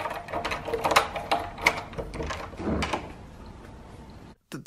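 A door creaks and clatters open in a video game featuring Sonic the Hedgehog, a busy run of mechanical knocks and scrapes that ends abruptly in a brief silence.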